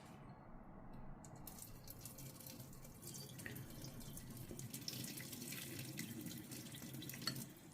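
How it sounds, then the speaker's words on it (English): Hot water streams steadily onto Indomie Mi Goreng instant noodles in a container nearby, a soft continuous trickling that grows slightly fuller as it goes. "And we're just going to pour the hot water onto it."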